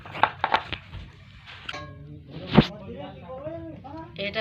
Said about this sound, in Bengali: ধনে পাতা কুচাচ্ছে